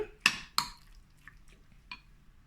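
Spoon scraping and knocking against a pan while chicken, black mushrooms and bamboo shoots seasoned with light soy sauce are stirred, two sharp clinks followed by softer scrapes and a final tap, close and fairly quiet.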